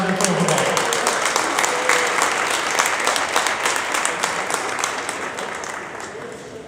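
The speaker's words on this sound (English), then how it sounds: "Round of applause for Travis Overbaugh." A high school varsity basketball crowd applauds a player being introduced, with broad sustained clapping filling the gym that slowly thins out toward the end.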